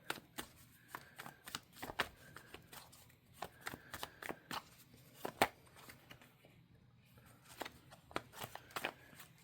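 Tarot cards being shuffled by hand, repeated riffling bursts and soft slaps in uneven clusters, close and fairly quiet, with no talk.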